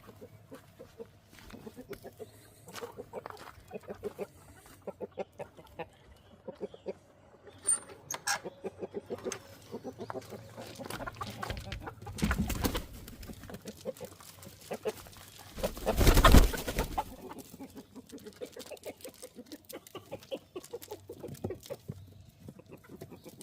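Backyard chickens cluck and mutter close by in a scattered, irregular stream, with a louder burst of noise partway through and occasional rustling around them.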